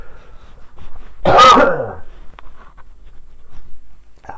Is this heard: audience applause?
no